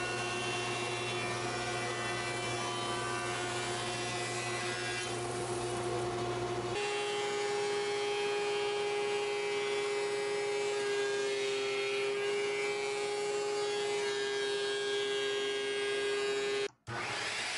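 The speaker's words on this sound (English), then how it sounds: "back onto the jointer to face one surface and over to the planer to get final thickness completed for all of the components." Woodworking machines mill lumber, a jointer facing a board then a planer bringing parts to final thickness; a steady motor whine with a pitch shift midway as cutting takes over, ending in a brief cutoff.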